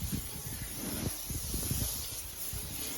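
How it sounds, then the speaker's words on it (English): A steady, close hiss of aerosol canola oil sprayed onto shrimp runs through the whole clip, with faint clatter and handling noises underneath. "I'm going to spray my shrimp with the canola oil as well."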